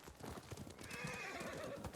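Horses in the Ghost of Tsushima video game clip-clop steadily while one neighs, all fairly close and clear with no talking.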